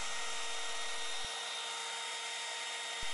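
Router bit routing out a small mortise in wood, a high steady whine with two brief knocks as the bit engages.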